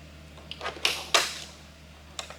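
Plastic trim cover pried off the inside door panel of a Toyota Camry, giving a few sharp clicks and snaps spread over a couple of seconds, close by against a quiet hum.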